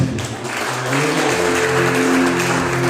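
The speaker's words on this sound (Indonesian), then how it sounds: "Berikan sorak-sorak yang mulia." A church congregation applauds and cheers during a worship service, a dense, loud, sustained wash of clapping with a tonal hum beneath it.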